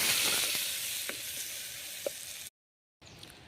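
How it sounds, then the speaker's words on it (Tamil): Chopped onions sautéing in a clay pot for village-style fish curry, heard as a steady soft sizzle with a couple of faint ticks, broken by a brief silent gap before the sizzle resumes. "வெங்காயம் வந்து நல்லா வதங்கிருக்கும்"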